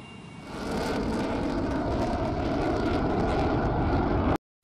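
US Air Force F-22 Raptor fighter jets taking off one by one at an air force base, a loud, swelling, broadband jet-engine roar that builds within the first second and then holds steady before cutting off.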